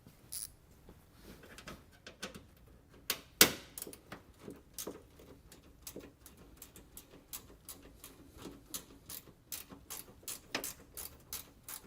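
Hand ratchet working T25 Torx screws out of a Ford Transit front bumper, a steady run of soft clicking pawl ticks with a few sharper clacks, close and fairly quiet, no talking.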